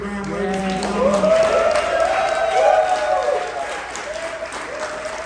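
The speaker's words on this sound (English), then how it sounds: "One more round of applause." A conference audience applauds at the close of a direct-to-consumer growth masterclass talk, sustained clapping with voices and cheers mixed in, fairly loud and steady throughout, with tonal crowd noise or music beneath.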